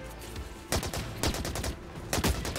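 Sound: gunfire in video game The Cycle Frontier

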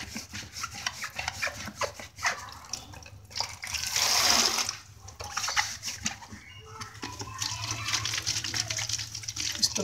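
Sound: water splashing while cleaning a clay water pot for birds

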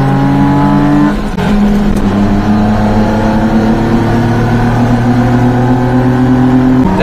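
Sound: mini truck with larger 32mm carb accelerating in second gear

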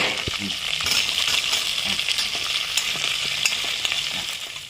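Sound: stirring chopped shallots and green chillies frying in pan

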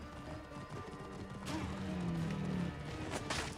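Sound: horse hooves and whinny, from video game Assassin's Creed Origins

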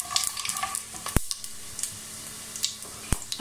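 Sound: whole spices frying in oil

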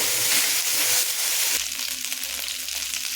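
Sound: ginger paste frying in a pan

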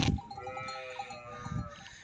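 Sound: sheep bleating as they come inside

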